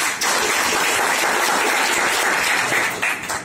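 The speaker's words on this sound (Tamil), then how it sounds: "கை தட்டலாங்க" Sustained audience applause at a monthly magazine release ceremony in Coimbatore, a dense, loud wash of clapping that swells in quickly and holds steady for a few seconds without voices.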